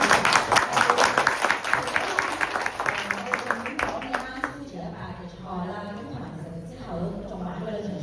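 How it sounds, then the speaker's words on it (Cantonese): Audience applause at a post-race talk for a Hong Kong runner, steady dense clapping in the first few seconds that thins out, with a voice speaking over the tail. "再次俾多次掌聲啦"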